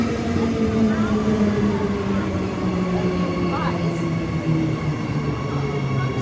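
Rumbling interior of a Perth commuter train in motion, a steady low drone with rail noise and faint squeals throughout, with voices faintly present under the hum.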